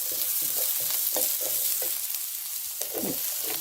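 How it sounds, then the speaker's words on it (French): Onions sizzle steadily in a hot pan as they are stirred, with soft repeated scraping strokes over a constant bright crackle, close and alone. "Puis ajouter les oignons. On remue."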